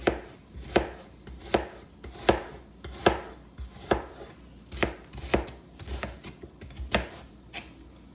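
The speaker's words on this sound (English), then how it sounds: "more slices, chop all the way down" A knife slices through food on a cutting board in preparation for Puerto Rican empanadas, crisp, evenly spaced chops, about a dozen in a steady rhythm, close and alone.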